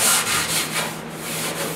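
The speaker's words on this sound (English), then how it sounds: "sanding the interior of a vehicle" Steady abrasive sanding inside a 1956 Ford pickup cab, a continuous rough rubbing hiss with slight back-and-forth swells, close and fairly loud with no talking.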